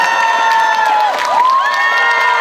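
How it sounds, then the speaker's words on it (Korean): At the 2023 Mungyeong Saejae barefoot festival, an outdoor crowd cheers and applauds for a guest, loud and close, with high sustained whoops and shouts sliding in pitch above the steady din. "우리 유명상 대표님께 큰 박수 한 번 부탁드리겠습니다"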